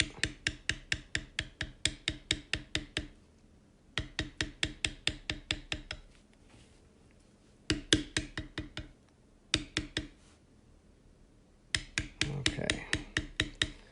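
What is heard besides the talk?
beveling tool working leather pattern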